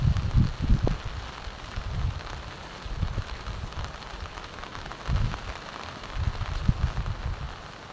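Steady typhoon downpour hisses in the hills, with gusty low rumbles rising and falling every few seconds over a continuous wash of falling rain, no voices heard.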